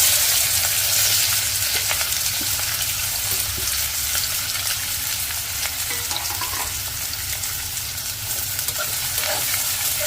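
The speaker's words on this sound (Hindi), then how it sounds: "अब इसमें डालेंगे प्याज। यहाँ पे मैंने 2 कटे हुए प्याज ले लिए हैं और 2 हरी मिर्चें ले ली हैं।" Two chopped onions and two green chilies fry in oil for Sindhi besan tikki curry, a steady close hiss and crackle of sizzling that runs unbroken, with light stirring scrapes now and then.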